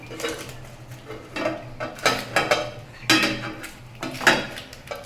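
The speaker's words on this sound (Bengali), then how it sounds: "এবারে ঢাকা দিয়ে দিলাম" A lid being set onto a pan where shrimp pitha wrapped in banana leaves is frying, heard as several sharp metallic clatters and clinks in irregular bursts over a low steady hum.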